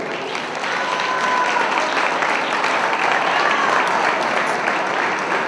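Sustained applause from the audience at a dog show in Guatemala, a dense, steady clapping that swells slightly after the first second and holds loud throughout, with no voices over it.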